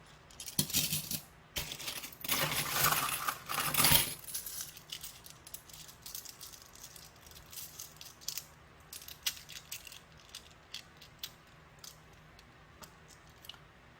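Korean 50-won coins tipped from rolls and flipped while being sorted make bright metallic clinks and jingles: dense, loud clattering for the first few seconds, then softer scattered clicks and taps.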